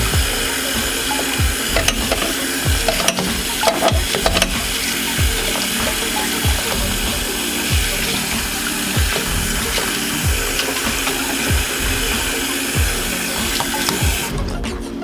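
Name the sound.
sink filling with hot water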